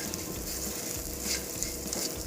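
Sabudana khichdi being stirred and sautéed in a pan, a steady low sizzle of frying with soft scraping of the spoon running throughout, close and continuous with no talk.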